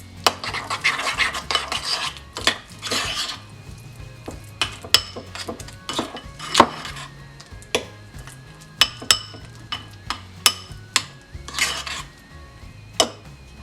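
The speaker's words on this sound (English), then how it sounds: "Again, give it a good mix." Utensil scraping and clinking against a bowl while mixing garlic butter, with irregular sharp taps and a steady stirring rustle, close up, no talking.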